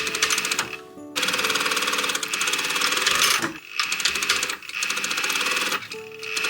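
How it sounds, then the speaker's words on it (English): A sewing machine stitches snake-print fabric back side pieces together with a quarter-inch seam. The needle gives a loud, fast, even rattling hum in long runs, broken by brief pauses as the fabric is adjusted, with no talk over it. "I can sew the side pieces together"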